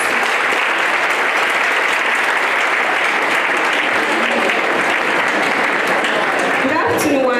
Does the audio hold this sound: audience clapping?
yes